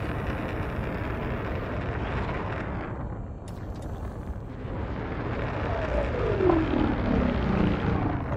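A spaceship descends with landing gear lowered onto a planet surface in the Elite Dangerous video game, a continuous roaring thrust that dips briefly midway, then swells again with a falling whine near the end.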